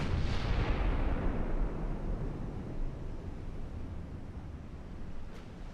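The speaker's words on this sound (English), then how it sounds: "he's back to shooting at us" Heavy naval gunfire in Ultimate Admiral Dreadnoughts: one deep, booming salvo that rolls out into a long, rumbling wash of noise and fades slowly, with a faint crack near the end and no voices.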